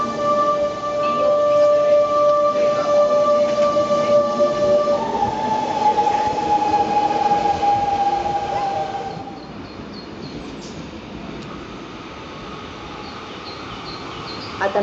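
An FGC train departing Barcelona's Plaça Catalunya station, a loud steady rumble with high tonal motor whines that glide and fade as it pulls away, leaving a quieter, hollow platform hum.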